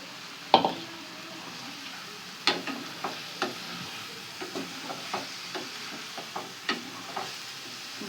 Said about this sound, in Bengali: আগে থেকে ভেজে রাখা ডিমটা দিব, যাতে ডিমটা এর সাথে একটু একটু কষানো হয়ে যায়